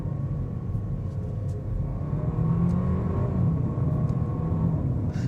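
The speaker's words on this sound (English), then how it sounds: "it's a 4-cylinder. It doesn't sound very pleasing." A 2025 Audi A5 with a four-cylinder engine and seven-speed dual clutch transmission is driven, giving a steady, loud, low engine drone throughout with no clearly distinct shift.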